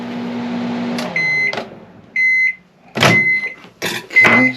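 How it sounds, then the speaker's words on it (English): A microwave oven heating soft plastic for bait making hums steadily, then stops; several short beeps and clunks of the door and handling follow, close and loud. "I'm going to put this in the microwave for about 3 minutes"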